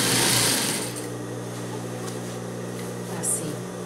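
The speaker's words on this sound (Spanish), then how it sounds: "Todo el contorno del cojín lo cosemos cuidando la pestaña de costura" A sewing machine runs continuously while stitching around the edge of a fabric cushion cover, a close, steady mechanical whir with a faint click near the end.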